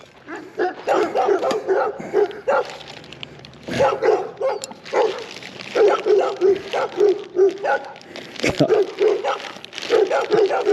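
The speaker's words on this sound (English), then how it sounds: "Try to do a good thing and want to get dogs barking at me." Dogs barking repeatedly in uneven bursts, fairly close, with a yip or whimper mixed in and short pauses between barks.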